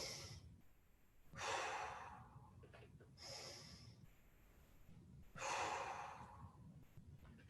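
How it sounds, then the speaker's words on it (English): Three deep, close breaths are drawn in and let out during a kneeling hip exercise, each a loud, airy rush with quiet pauses between. "Let's go 3 big breaths."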